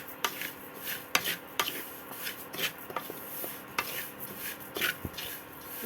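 Dalia and mung dal dry-roasting in a hot wok over low to medium heat, stirred with scattered scraping and rustling strokes at a moderate rhythm, fairly quiet and close.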